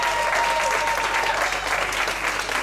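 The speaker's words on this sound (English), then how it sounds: "So if we could just take a minute to applaud Colleen before she comes on stage." An audience at a storytelling event in Bali applauds a woman named Colleen before she takes the stage, with steady, dense clapping from a crowd that holds evenly and fairly loud throughout.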